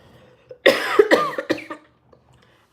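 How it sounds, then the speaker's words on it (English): A woman coughs in a quick burst of several loud, harsh coughs close to the microphone, followed by a few fainter breaths and small sounds. "I don't know why I'm coughing."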